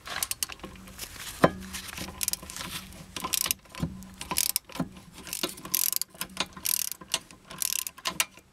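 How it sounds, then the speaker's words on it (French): A hand ratchet wrench clicks in quick, irregular bursts at close range as it loosens tight rear brake caliper bracket screws on a Renault Scenic 3, with metallic clinks between strokes and no speech. "je finis le desserrage tout simplement avec une clé à cliquet classique"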